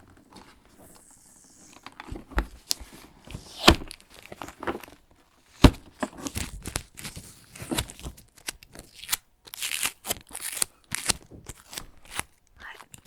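Sticky tape pulled off a roll and torn in several quick crackling bursts, close and fairly loud, with brief pauses between strips.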